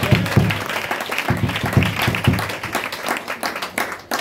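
Church congregation applauding together, a dense burst of clapping from many hands, loud and sustained with a few scattered voices mixed in.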